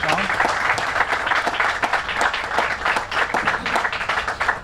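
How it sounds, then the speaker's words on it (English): A crowd at a groundbreaking for the I-10 widening in St. Martin Parish applauds the governor, steady, loud and close clapping with individual hand claps audible throughout. "Let's give him a big round of applause."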